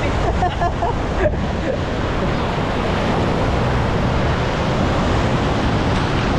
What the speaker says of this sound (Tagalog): Dinala kami sa dagat.